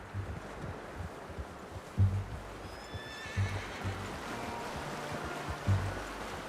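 A horse neighs in the video game Red Dead Redemption 2, a faint, drawn-out whinny rising above soft hoof clip-clops and an outdoor ambience of flowing water and rustling leaves, with occasional low thumps.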